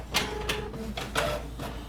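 A home printer feeds and prints paper pieced quilt block patterns, repeated mechanical whirring passes with rhythmic bursts at close range and no talking.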